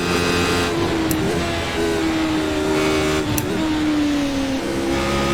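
A Radical SR8 V8 race car lapping the Nordschleife in iRacing holds a steady, loud engine note, its revs slowly falling and climbing with shifts, alone without talk.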